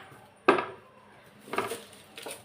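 Knife chopping shallots and large onions on a board for kara kuzhambu, three sharp, separate cuts spaced about a second apart in a quiet kitchen.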